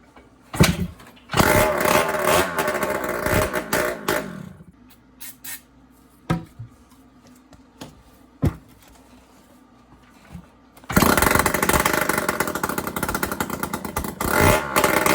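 A rebuilt 1978 Yamaha DT175E motorcycle engine fires and runs in loud, rattly bursts, drops to a quieter stretch with a few sharp knocks, then roars back steadily.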